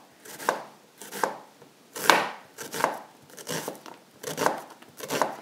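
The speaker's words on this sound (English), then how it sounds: "Now I'm going to slice up 1/2 of a large onion to add to it." Knife slicing through half of a large onion on a cutting board, seven evenly spaced crisp chops, close and clear with no talk.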